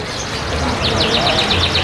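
Canaries in the canary class of a songbird singing contest give quick, repeated high chirps in the second half, over a steady murmur of crowd noise and talk.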